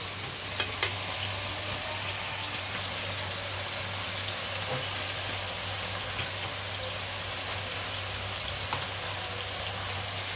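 Paste of garlic, ginger, tomato and onion fries in a pan, giving a steady close sizzling hiss with a couple of sharp spatters near the start and faint stirring clicks.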